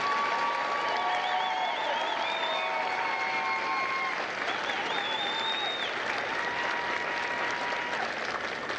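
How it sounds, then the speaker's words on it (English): Audience applause at a U.S. Marine recruit graduation ceremony at MCRD San Diego, a steady loud wash of clapping from a large crowd sustained throughout, with faint cheering and no talk. "please join me in a round of applause for the company staff of Delta Company"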